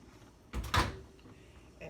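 A short thud and clunk of a microwave door being pulled open nearby, a quick double knock with quiet room noise afterward.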